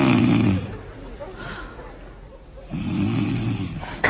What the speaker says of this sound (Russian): что ты опять будешь храпеть, я не усну опять